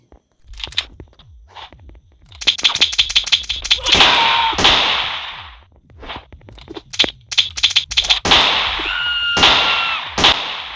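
Gunfire in a police chase video game: loud, rapid clusters of sharp cracks and bursts, with a few brief pauses and some sustained noisy blasts between the volleys.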